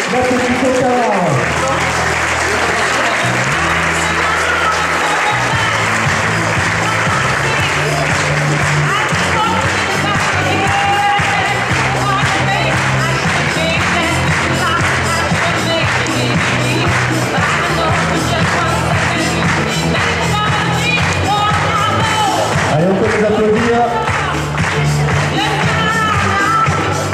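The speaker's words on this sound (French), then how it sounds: "Merci d'applaudir l'Atlético Carrare" A large crowd applauds and cheers as a team is introduced at the opening ceremony of the Clément Pinault youth tournament, with sustained dense clapping and shouts and a loudspeaker voice talking over it.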